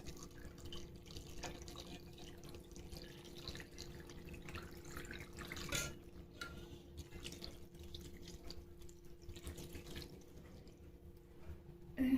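Water running steadily into a pot of Bosnian stew with oil and tomato, a continuous close trickle and splash lasting throughout with a brief louder surge near the middle and at the end.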